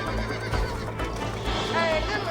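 Horse neighing in the video game Red Dead Redemption, a short whinny rising near the end over steady game ambience and hoof clip-clop, with speech mixed throughout.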